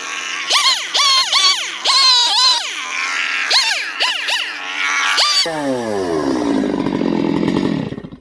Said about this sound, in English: So I'm going to open it up and tear into it with a chainsaw.